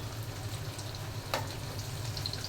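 Battered eggplant fritters deep fry in plenty of oil, a soft steady bubbling hiss with one brief louder crackle partway through, fairly quiet and without talk.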